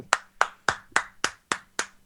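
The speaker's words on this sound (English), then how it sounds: "Clap." Seven sharp hand claps at a steady, deliberate pace, each crisp and close with a short decay, alone against a faint background hum.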